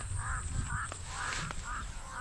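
Crows cawing over a corn field at harvest, a steady series of four or five harsh caws in quick rhythm, moderately distant, under a constant hiss of outdoor noise.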